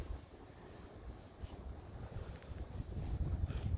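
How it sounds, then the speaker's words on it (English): Steady, blustery wind buffeting a microphone outdoors in a spring garden: a low, rumbling roar that swells in gusts and grows louder toward the end, with no voices. "if you can see my swing, you can tell it's really windy"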